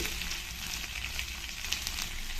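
Ginger garlic paste fries in hot oil in a pan for corn fried rice, a steady close crackling sizzle that holds evenly throughout with no talking.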